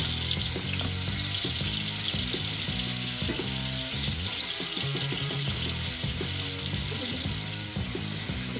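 Frozen katla fish pieces fry in oil in a pan, producing a constant, close, hissing sizzle with bubbling crackles and occasional clinks, no voices.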